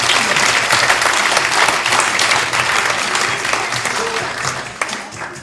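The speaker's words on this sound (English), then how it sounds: "Give him a big round of applause as he comes" An audience applauds a child volunteer coming up on stage at a live entertainment show, with steady, dense clapping that holds throughout and a few voices and cheers mixed in under it.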